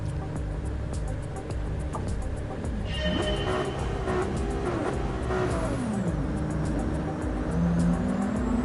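A Nexus 296 race car pulls out of its pit stall during qualifying at Daytona International Speedway, its engine note climbing and sweeping through gears over a steady background of other running cars.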